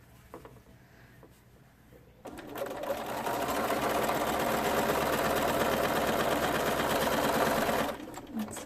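A sewing machine stitches in one steady, whirring run lasting several seconds before stopping, loud and close after a quiet start.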